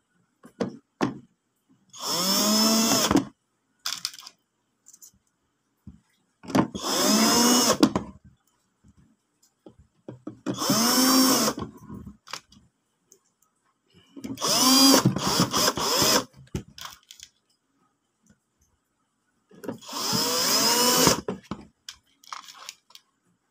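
A power drill drives screws into a battery pack during a repair of a KTS-1575 unit that would not charge. Five separate whirring bursts of a few seconds each rise and fall in pitch, with quiet gaps and small handling sounds between them.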